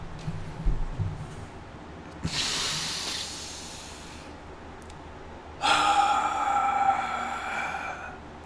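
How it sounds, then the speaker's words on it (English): During a guided breathing exercise, one long, hissing inhale is followed by a pause and then a long, audible exhale, close and breathy, with no words spoken. "So let's do a breathing exercise now."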